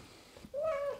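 A cat meows close to the microphone: one rising then falling meow in the second half, alone, with a faint softer sound just before it.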